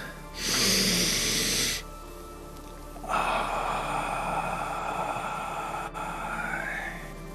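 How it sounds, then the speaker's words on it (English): A person takes a deep breath in through the nose during a guided breathing session, producing a short loud airy inhale, then a longer, steadier breath sound, close to the microphone. "Nice deep breath into the nose."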